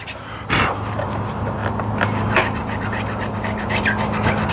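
A blunt knife held flat scrapes old gasket residue off a Honda VF1000F2 engine surface, producing repeated close rasping strokes over a low steady hum, with no talking.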